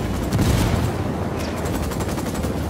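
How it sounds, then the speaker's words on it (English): An Apache helicopter opening fire in the video game Ghost Recon: a loud, dense, continuous barrage of rapid shots and booming impacts, close and unbroken throughout. "Apache's about to fire."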